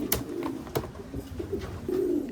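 A racing pigeon arrives nearby with soft throaty coos, broken by a few sharp flutter-like bursts across a couple of seconds.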